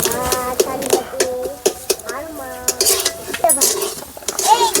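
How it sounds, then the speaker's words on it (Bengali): A metal spatula clinks and scrapes against a pan, stirring paneer and potato pieces through spices in short irregular strokes, with someone talking over the clatter. "এইভাবে ভালোভাবে নেড়ে চেড়ে নিতে হবে যাতে মশলার সাথে পনির আলু সব সাথে মিশিয়ে যায়"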